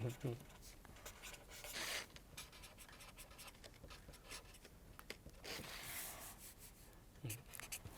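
Faint pen or pencil scratching across paper in a quiet indoor lesson, soft intermittent strokes with brief pauses, with occasional low speech nearby.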